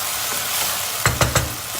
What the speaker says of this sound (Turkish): Naneyi de bir kavuracağız içinde.